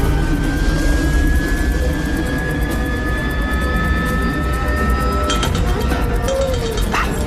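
Aircraft engines run up on the ground before takeoff in a film scene, a steady loud jet roar with rising whine tones that holds throughout and swells slightly near the end, with no talk over it.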